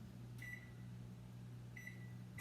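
A microwave oven softening butter hums steadily at low level, with a short bright beep near the start, another after about two seconds, and a third cut off at the end.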